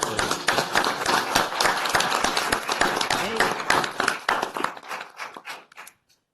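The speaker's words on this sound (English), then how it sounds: "Let's give a round of applause for that." A round of applause at a county board of supervisors regular meeting, with a room of hands clapping steadily at close range. It thins out toward the end and stops.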